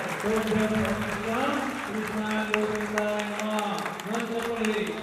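An audience claps steadily at a Shrimad Bhagavat Katha religious discourse in Rajim, the clapping running beneath a prominent voice that sings or speaks throughout.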